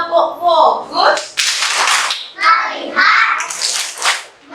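Children perform the tepuk fokus clapping routine in a classroom, with sharp rhythmic hand claps in short bursts alternating with chanted voices, loud and close.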